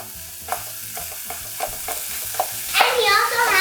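Ground meat for lasagna sears and sizzles in a hot pan, with repeated scraping stirs knocking at a steady rhythm and the frying hiss swelling louder near the end, no talk.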